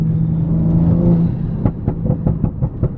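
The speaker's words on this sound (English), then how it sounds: "the exhaust comes to life" A Toyota Mk5 Supra sports car engine hums steadily, then a series of sharp exhaust revs and pops bursts out in quick succession, loud and close.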